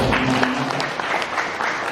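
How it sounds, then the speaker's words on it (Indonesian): An audience applauds at a scout gathering in Bogor, a steady wash of clapping with faint voices mixed in. "Tepuk tangan dulu untuk Pak."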